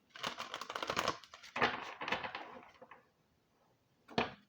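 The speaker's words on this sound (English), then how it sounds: "let's show the different ways we can shuffle with this deck" An oracle card deck, the Vintage Wisdom Oracle, is side shuffled in quick bursts of crisp riffling card flicks, close and quiet, with pauses and a final sharp tap.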